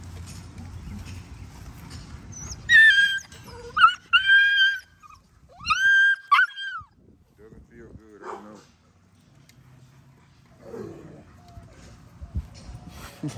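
Pitbull dog whimpering and yelping as tape is pulled off its ears in a backyard, a few sharp high cries and whines in bursts, near and loud, with someone talking around them.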